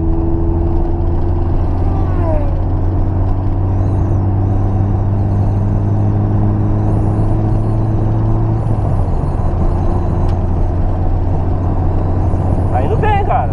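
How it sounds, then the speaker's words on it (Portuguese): A boxy Volkswagen Gol with a carburetor pulls hard along a Brazilian highway in fourth gear. The loud engine drone climbs steadily under road rumble, and someone talks over it. "Cair na BR aqui, já vamos acelerar ele pra ver."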